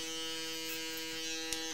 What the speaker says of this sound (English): I'm just going to blend into it with my foil shaver.